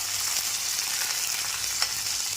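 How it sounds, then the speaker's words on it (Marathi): Tomatoes tossed into a pan with browned garlic and onion, frying with a dense, steady hiss and a couple of faint stirring scrapes, close up and without speech. "लागलीच टोमॅटो घालून घेऊया मिक्स करूयात"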